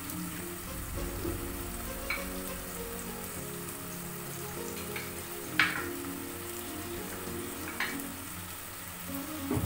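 Soya chunk curry with ginger paste fries gently in a pan, giving a soft, steady sizzle with occasional louder pops and scrapes of stirring, heard close and quiet with no talk.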